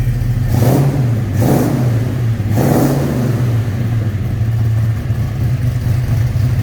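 A 1972 Ford XA GT Falcon hardtop rumbles at idle and takes three sharp throttle blips, each rising and falling back to a steady, close, loud burble.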